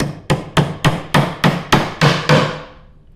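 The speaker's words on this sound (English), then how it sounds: "take our hammer," Hammer driving a fastener into a mixed-material nightstand during assembly, eight firm, evenly spaced strikes close up, each with a short ringing decay, then fading to quiet.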